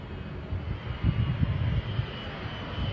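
An A-10 attack jet comes in to land belly up with no landing gear, heard as a steady, moderately distant engine roar with low rumbling surges.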